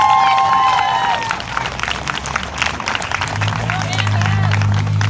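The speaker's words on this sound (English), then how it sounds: "Another round of applause for the poet, please." Audience applause and cheering for a poet at a community event against Homeland Security, a dense crowd clapping steadily and loudly throughout with scattered whoops and a low background hum.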